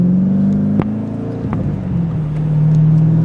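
A manual-transmission car driven on nearly bald tires, worn past the wear bars, gives a steady close engine hum and road rumble with a couple of brief knocks, continuous and without talk.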